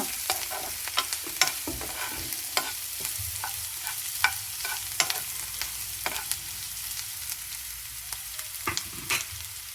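Curry leaves crackling in a hot oil tempering for a carrot fry, with frequent sharp spoon clicks and scrapes against the pan over a soft sizzle, close and fairly quiet, no voices.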